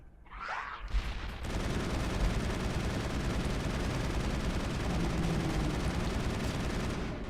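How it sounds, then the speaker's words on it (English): A grenade detonates in Mass Effect 1 combat. A short burst comes first, then a sustained loud roar of blast and gunfire-like noise runs steadily to the end. "I'm going to go ahead and toss a grenade"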